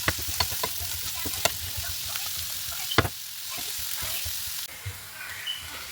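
Chopped onion stirred and fried in a pan for garlic honey chicken, a steady close sizzle with repeated scraping clicks of the spoon against the pan, no talk.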